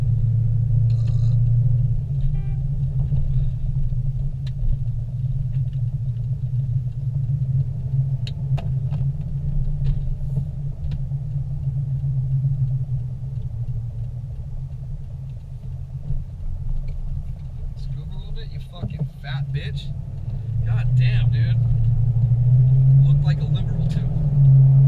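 A car climbs Highway 330 toward Big Bear Lake on newly fitted rims and tires. A steady low engine and road rumble runs throughout, with faint voices and light rattles surfacing now and then.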